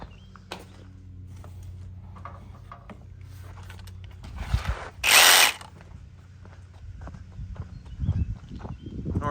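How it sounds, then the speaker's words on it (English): A Sawzall reciprocating saw cuts through an air conditioner coil in a brief, loud burst of harsh buzzing rasp in the middle, set among scattered clanks and handling noises of scrap metal. "a Sawzall."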